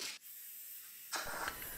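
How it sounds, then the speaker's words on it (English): A DIY hobby powder coating gun sprays powder in two short airy hissing bursts separated by a pause, close and fairly quiet. "This my powder coating gun was off eBay."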